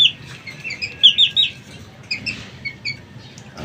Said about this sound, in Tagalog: Dito tayo mga alaga ating manok.